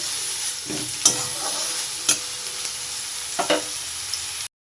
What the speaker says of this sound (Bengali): এখানে আমার পেঁয়াজ টমেটোটা ভালোভাবে ভাজা হয়ে গেছে